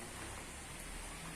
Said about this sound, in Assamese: এইফালে পূৰা বতাহ বৰষুণ দি আছে